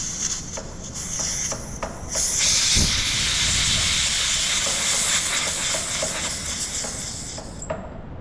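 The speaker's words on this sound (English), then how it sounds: "Now I am going to purge the oxygen to the bomb." Oxygen purging into a bomb calorimeter for a heat of combustion experiment, a loud steady gas hiss that swells after a couple of seconds and holds up close, with faint clicks at the start and end, no talking.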